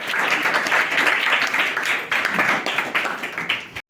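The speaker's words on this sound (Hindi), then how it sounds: "जोरदार तालियों के साथ कृतिका का स्वागत यहाँ पर" Loud, vigorous applause from an audience at a school science seminar welcoming a student presenter, dense and continuous clapping that cuts off abruptly at the end.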